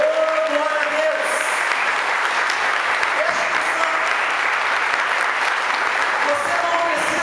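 Church congregation applauding for Jesus during a church anniversary service, steady broadband clapping sustained throughout with some voices mixed in.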